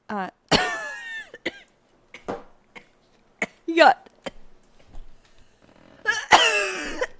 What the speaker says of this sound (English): So basically, I'm just gonna leave your coughing fit in here.